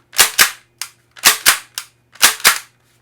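Sharp mechanical clacks of a T4E TX 68 .68 caliber paintball marker rifle being cocked ring out close by, mostly in quick pairs, separated by short silent gaps.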